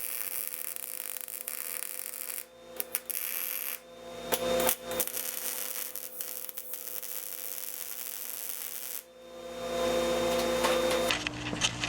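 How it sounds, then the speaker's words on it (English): Welding repairs the supports on a twin turbo manifold for a Honda-swapped VW Bug, a buzzing, crackling electrical hum with static bursts, interrupted by pauses and brief clatters, fairly quiet and close. "So now I'm going to weld that back together"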